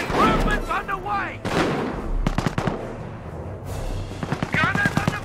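Bursts of rifle and machine-gun fire crack through a World War II battle in Company of Heroes: Opposing Fronts at Hill 112, sharp volleys repeating between shouted soldier voices.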